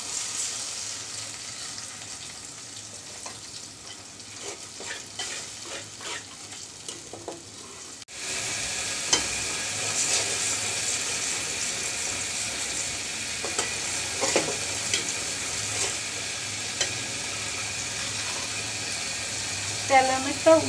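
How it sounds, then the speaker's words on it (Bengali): Chilli and turmeric masala paste frying in oil with a steady crackling sizzle, thinned with a splash of spice-bowl rinse water partway through, then a louder, continuous fry with occasional stirring scrapes. "অল্প বাটি ধোয়া মশলার ধোয়া পানিগুলো দিয়ে একটু কষিয়ে নিব"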